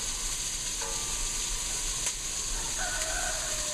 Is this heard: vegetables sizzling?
yes